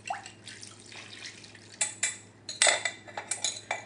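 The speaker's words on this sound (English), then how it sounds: "So I'm just going to add this to my bread mixture" Chicken broth whisked with a large egg is poured into a bread mixture for sausage and apple stuffing and mixed, with faint liquid trickles followed by several clinking utensil-on-bowl knocks and scrapes, no talking.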